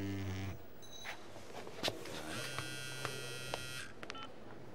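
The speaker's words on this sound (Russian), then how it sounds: "А у вас телефон звонит." A telephone rings in a café, a quiet electronic buzzing tone pattern that starts, pauses and resumes over faint room background.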